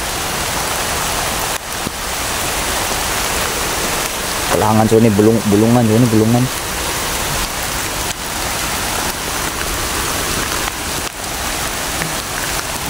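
Heavy rain pours in a dense, steady roar from start to finish, and a voice briefly speaks over the downpour partway through.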